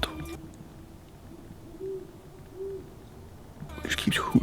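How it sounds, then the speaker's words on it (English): An owl hoots at night, two short, faint, steady calls spaced about a second apart over quiet background hiss, followed by louder rustling and handling noise. "There's a fucking owl that's been keeping me up for fucking 3 days. It won't shut up."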